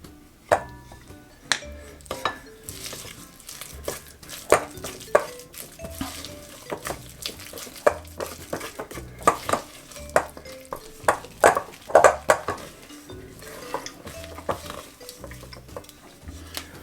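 A spoon scrapes and stirs through thick ginger oat cookie dough in a bowl, close by, with repeated sharp clacks and knocks against the bowl at irregular intervals between softer dragging strokes.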